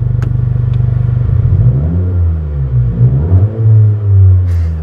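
Honda Civic Si engine idling with a fast, even rumble, then revved a few times, the pitch rising and falling in smooth swells, loud and close with no talk.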